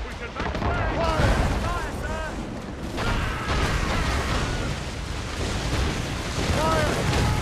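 Cannon fire booms through a naval battle in the video game Assassin's Creed Rogue, a loud continuous barrage of blasts and rumbling impacts with shouted voices breaking through the din.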